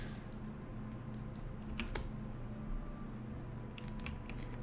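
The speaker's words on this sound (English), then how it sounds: "So I hope my keyboard is not loud." Clicks from a computer keyboard being typed on at a desk during a live game-development texture painting session: sparse, irregular light taps, with a small burst near the start and another near the end, over a steady low room hum.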